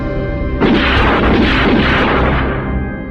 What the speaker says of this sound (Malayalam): അയാൾ കൈത്തോക്കെടുത്ത് 3 പ്രാവശ്യം വെടിവെച്ചു.